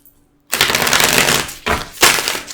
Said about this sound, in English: They want me to just do one more bridge shuffle